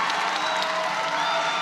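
A crowd at a college gymnastics meet cheers and applauds continuously, a dense, steady roar of clapping and shouts filling the space.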